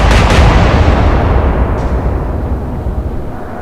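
Heavy naval guns fire in the Atlantic Fleet video game, a single loud deep blast at the start that rumbles and fades slowly over several seconds.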